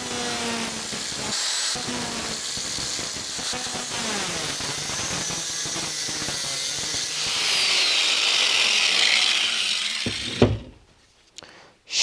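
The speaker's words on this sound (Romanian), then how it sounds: "Și cu ajutorul unui flex am să tai." An angle grinder cuts a metal part clamped in a vise, giving a steady loud whine and hiss that rises toward the end, then stops abruptly and spins down into quiet.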